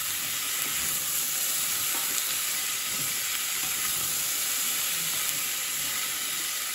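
Onion sears in a non-stick-free saucepan, giving a steady, dense sizzle and hiss of frying that runs unbroken and fairly close throughout, with no talking.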